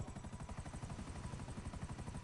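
Pegasus helicopter in GTA Online Gun Running, its rotor thudding in a fast, even beat, steady and moderately close for the whole stretch with no talk.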